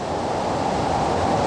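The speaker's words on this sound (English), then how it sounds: "the water flowing out of the cave" Strong, steady rush of water flowing out of a cave at the Walls of Jericho in Tennessee, a loud continuous roar heard close up with no voices.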